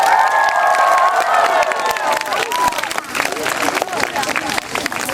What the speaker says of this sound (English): give him a cheer once again